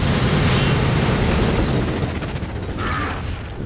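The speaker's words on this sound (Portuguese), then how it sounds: "Olha o barulho, olha o barulho do tiro." Heavy booming gunfire bursts in the PC game Resident Evil 4 HD, loud and close, blending into rumbling explosive noise that fades slightly toward the end.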